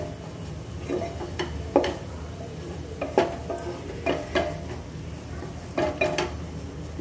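Bottle gourd and urad dal are stirred while roasting in a pan over a low-to-medium gas flame, with repeated close scrapes and clinks of a spoon against the pan over a soft background hiss.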